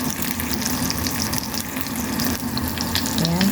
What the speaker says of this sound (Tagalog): Tapos prito sa luya.